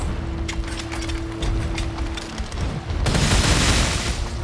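Weapon-handling sounds from the video game Pascal's Wager: a run of mechanical clicks and clacks with a sustained tone underneath, then a louder, dense burst near the end, heard clearly with no talk.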